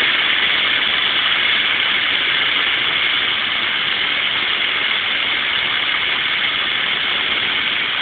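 A Newman motor powered by a PWM 12-to-50 volt DC step-up supply runs with a steady, dense electrical buzz and hiss that holds level throughout, with no speech.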